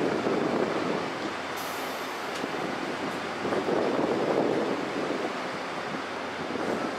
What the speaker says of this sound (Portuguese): Vagão bem perto, né?